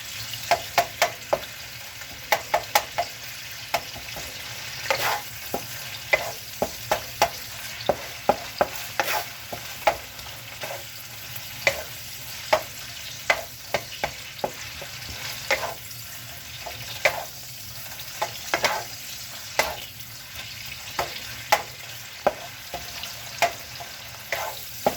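Ground lamb fries in a pan for pasta, with a steady sizzle broken by frequent sharp scrapes and taps of a spoon stirring the meat, close and continuous with no talk.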